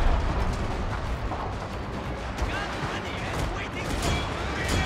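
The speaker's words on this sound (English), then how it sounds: "Let's give him another round of shrapnel fire." Shrapnel artillery fire in the strategy game Fall of the Samurai, a dense continuous rumble of blasts and crackling gunfire from a large battle, with speech mixed in.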